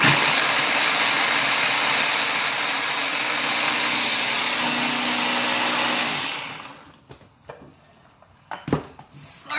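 A kitchen blender whirs loudly and steadily for about six seconds while chopping wonton filling for Shanghai wontons, then cuts off and leaves scattered clinks and bumps of the jar and utensils.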